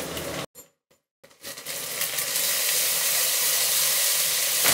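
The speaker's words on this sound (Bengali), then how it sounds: "আদা ও রসুন বাটার কাঁচা গন্ধটা চলে যাওয়া পর্যন্ত এগুলোকে একটু ভেজে নিলাম" Ginger and garlic paste hitting hot oil with lightly browned onions in a pan for rohu fish curry, a brief cut to near silence, then a loud, steady, close sizzle and hiss.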